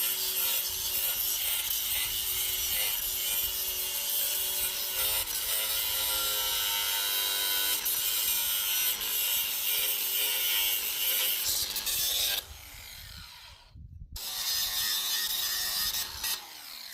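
A power grinder cuts away grout around a buried well casing outdoors, giving a continuous loud grinding whine that drops out briefly near the end before resuming.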